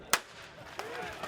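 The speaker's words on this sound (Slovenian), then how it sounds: "In še štartni strel" A starting pistol fires one sharp, loud crack to start an outdoor running race. A faint pop follows, then low crowd murmur and soft voices.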